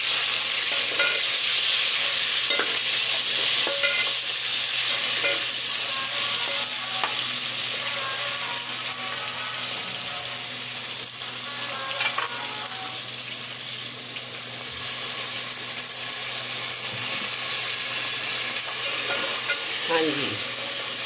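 Tomatoes go into a pan of lightly browned onions for an arvi baingan dish and fry with a loud, constant sizzle and hiss. Frequent spoon scrapes and stirring clicks sit on top, and there is no talking.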